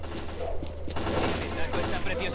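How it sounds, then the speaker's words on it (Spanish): Gunfire crackles through a firefight in the video game S.T.A.L.K.E.R. Clear Sky, a steady mid-level burst of shots over a continuous low hum, with a voice speaking over part of it. "¿Quién me está disparando?"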